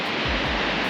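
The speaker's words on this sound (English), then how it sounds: "That's a Waterfall, right?" Wallaman Falls in Australia, the country's highest waterfall, gives a steady broadband rush of falling water, loud and constant over a brief moment with no voices.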